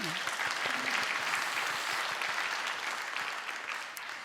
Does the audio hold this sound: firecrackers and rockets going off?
no